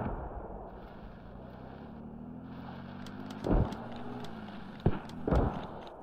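Mortar rounds fire in the video game Squad, with a few deep, booming thumps over a steady low rumble of vehicle-like background noise.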